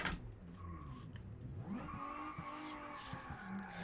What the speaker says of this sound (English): Let's give it a little, start up. Straight pipe V6.